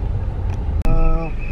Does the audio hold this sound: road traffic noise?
yes